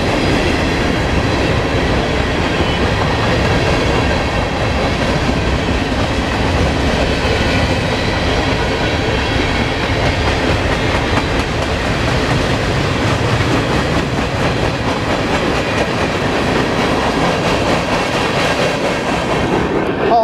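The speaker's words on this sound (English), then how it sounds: "the mixed freight train in this train video" A Norfolk Southern northbound mixed freight train rolls past at a road crossing in Columbus, Ohio, a loud, continuous roar of wheels and rattling cars with rhythmic clickety-clack, close by and steady before easing off at the end.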